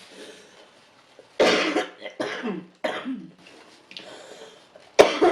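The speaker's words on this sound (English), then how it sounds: "It was a cough, but with a burp kind of in the middle of a cough." Several harsh coughs come in quick bursts, one mixed with a low gulping burp, separated by short quiet pauses.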